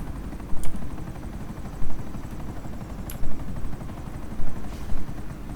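A damaged helicopter in GTA Online drones with a steady, loud rotor thump, punctuated by a few sharp bursts of gunfire-like cracks.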